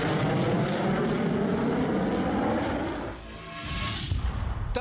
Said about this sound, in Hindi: तब कुल मिलाकर 20 फाइटर जेट्स आसमान में एक साथ उड़े